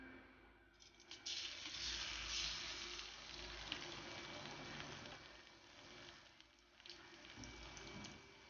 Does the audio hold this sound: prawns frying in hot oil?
yes